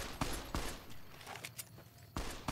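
Gunfire in the video game Fallout: New Vegas, a few sharp shots spaced irregularly, fairly distant and moderately loud against a quiet background.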